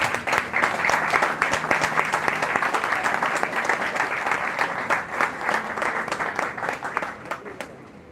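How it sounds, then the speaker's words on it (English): A school graduation ceremony audience gives sustained, dense applause, a steady roar of many hands clapping that holds for several seconds before slowly thinning out at the end. "Please put your hands together again for Mrs. Russell."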